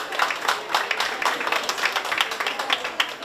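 An audience claps together at a chocolate demonstration event, a dense, steady patter of many hands at moderate distance that runs the whole time without voices.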